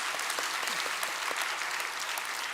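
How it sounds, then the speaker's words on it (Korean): A church congregation applauds a missionary to the Philippines during a Sunday worship service, with dense, even clapping filling the room at a steady level and no talk over it. "박수 한번 할까요?"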